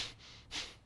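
A single deep inhale through the nose during a core and pelvic floor exercise, soft and close, heard twice as two breathy rushes with a short pause between, with no talking.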